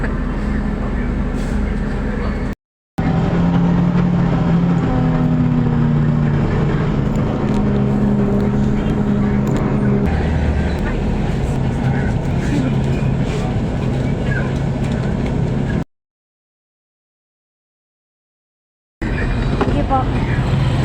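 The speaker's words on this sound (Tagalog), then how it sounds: "At ayan guys, sumakay na ako dito ng bus." Riding inside a bus, a steady engine rumble and road noise with rattles, continuous and close, broken by two short silent gaps.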